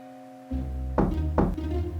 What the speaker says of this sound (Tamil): டாம் வீட்டு கதவை தட்டினாரு